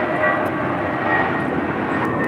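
Airliner at LAX rolling for takeoff on runway 25 right from taxiway Foxtrot, a steady broad jet engine roar holding level and fairly loud throughout, heard alone without talk.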